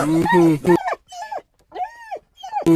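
An animated dog in a Jamaican cartoon gives loud barks followed by a series of high, rising and falling whimpers and yelps, close and clear with brief gaps between them.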